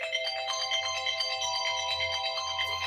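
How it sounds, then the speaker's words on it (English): A mobile phone ringtone plays alone, a steady electronic melody with repeating tonal notes, fairly close and moderately loud throughout. "Hold on, y'all. Let me put my phone on mute."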